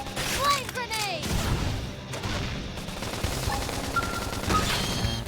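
Gunfire and a flame grenade from combat in the video game Xenoblade Chronicles X, a dense, loud barrage of shots and bursts with crashing impacts, mixed with game music and voices throughout.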